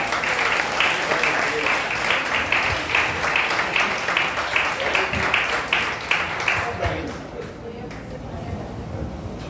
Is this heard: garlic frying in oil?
no